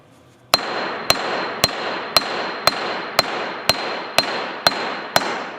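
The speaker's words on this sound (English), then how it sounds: "we're going to take a hammer here today and just show how durable these urethanes really are" A hammer strikes a urethane-coated concrete floor ten times at an even, steady pace, each sharp ringing hit followed by a brief decay, close and loud with no talking.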